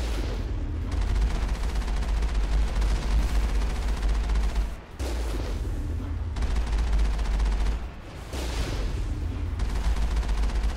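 Mako tank cannon fire in Mass Effect, with dense continuous rumbling booms and heavy low-end blasts that go on for several seconds. Brief dips split the roar into sections.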